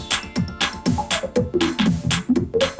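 Roland MC-505 groovebox runs a shuffle-quantized pattern, with punchy drum hits and bass notes falling into a swinging, uneven rhythm, loud and close with no voices.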